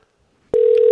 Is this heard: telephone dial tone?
yes